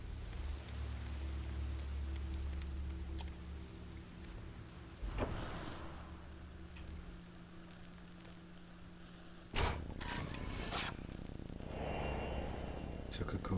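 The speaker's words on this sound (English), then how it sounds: "It's raining again." Steady rain hiss in the haunted Japanese setting of the game Fatal Frame: Maiden of Black Water, continuous over a low drone, with a sharp burst midway and a brief loud swell near the end.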